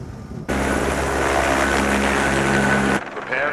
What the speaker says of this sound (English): Prepare for incoming chopper.